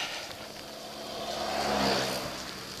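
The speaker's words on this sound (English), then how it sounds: "there's a car coming" A car approaches and passes on a road beside a hiking trail in wet, lousy weather, its steady engine and tyre roar swelling to a peak before easing off, with no voices.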